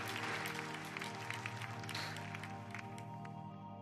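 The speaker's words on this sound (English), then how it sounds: "we just want to take an opportunity and put our hands together for you" A church congregation applauds at a Good Friday service, dense sustained clapping that tapers slightly toward the end, with soft music underneath.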